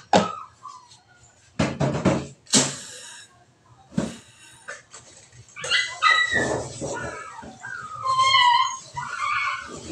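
A pet dog whimpers, yips and barks in irregular bursts close by, with high whines between the louder barks.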